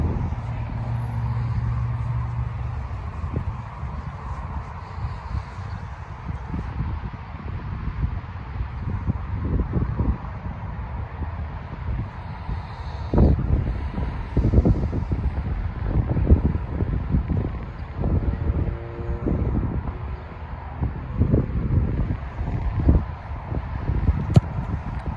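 Wind buffets a microphone on an outdoor football field during field-goal kicking practice, a steady low rumble with gusty rustling and scattered thumps throughout.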